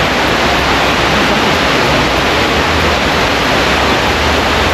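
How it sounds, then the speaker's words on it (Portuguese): Waterfall at a memorial in New York, a steady loud broadband rush of falling water that holds constant throughout with no pauses and no voices. "Ali se tem até um queda d'água"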